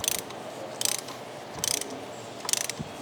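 Ratchet clicking in four short bursts while an oil drain plug is snugged down on a 2020 Audi S5 Sportback, close and fairly quiet, each burst a quick run of metallic pawl ticks with pauses between.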